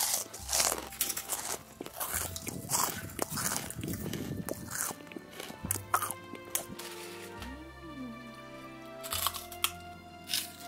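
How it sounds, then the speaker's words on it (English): Homemade prawn crackers, crunchy and light, bitten close to the mic. Repeated crisp crunches and crackles run through the whole stretch with no talking. "The prawn crackers are very crunchy and light."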